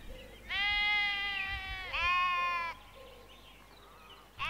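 Goats give two clear, loud, wavering bleats in close succession, the second shorter, followed by a quieter faint call and a brief knock at the end.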